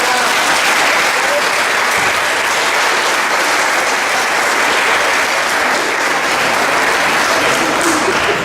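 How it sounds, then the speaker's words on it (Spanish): A congregation at an Easter Mass claps in a sustained, even wash of applause, many hands together and fairly close, with faint voices mixed in beneath the clapping throughout. "Por favor, un aplauso para tu"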